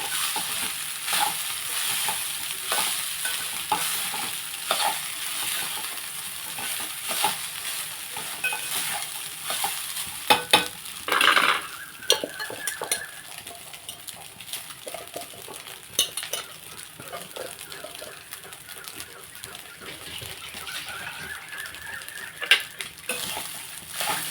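Lemon rice being stirred in a pan with a utensil, giving a steady run of scraping and stirring strokes over a faint sizzle, with a few sharper clinks of spoon on metal, close and moderately loud, no voices.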